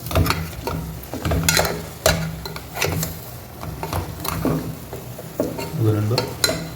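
Camel meat curry being stirred in a pan, with repeated scraping strokes over a steady frying sizzle and occasional clinks of utensil against metal, close and fairly loud.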